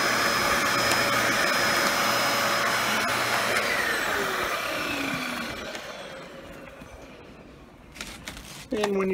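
A Dyson DC14 Animal upright vacuum with the crevice tool attached runs with a loud, steady, close whine that gradually winds down and quiets, followed by a few clicks of handling.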